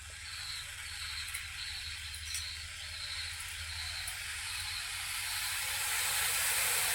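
A steady, loud hiss of milk coming to a boil in a pan, growing slightly brighter and stronger toward the end, with no voices.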